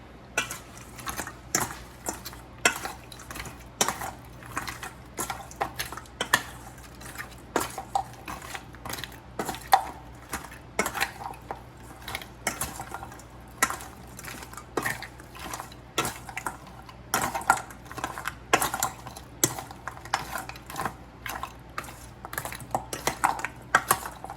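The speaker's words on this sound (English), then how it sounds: "And now let's mix everything together." Chicken and frozen vegetables get tossed with black pepper and garlic powder in a bowl, a long run of irregular clinks, taps and scrapes of utensil against dish, close and fairly quiet.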